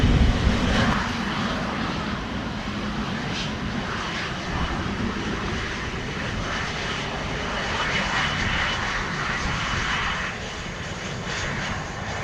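An Air Canada airliner rolls for takeoff on runway 07 at Montego Bay, Jamaica, its engines roaring loud and steady throughout, with strong wind adding a broad rushing noise and no voices.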